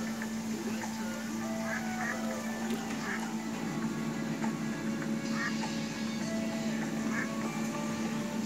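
Ducks in The Sims 4 video game quack in short, repeated calls over a steady background hum, moderately near.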